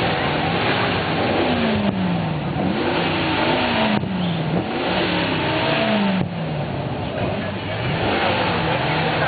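An antique car with an engine of at least eight cylinders revs during a classic car parade in Cartago, the engine pitch climbing and falling in repeated waves over steady crowd and street noise.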